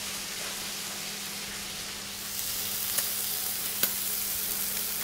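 Garlic and rosemary sizzle in butter alongside frying beef and lamb fillets, a soft steady hiss that swells slightly midway, with a couple of faint taps from a utensil.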